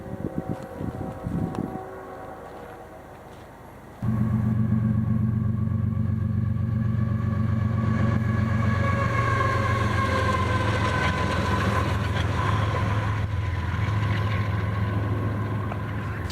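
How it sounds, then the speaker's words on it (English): Union Pacific locomotive UP5311 leads a special move hauling two Metro North SC42 DM units past, a steady loud diesel drone and rolling rumble with wheel noise building near after a quieter approach. "UP5311 leading the Siemens special move rolled on by, but not with a VIA set, but rather two Metro North SC42 DMs."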